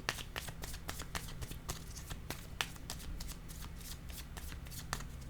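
Playing cards are laid down and shuffled on a table, a quick run of crisp, close riffling flicks and soft slaps repeating steadily with no talking.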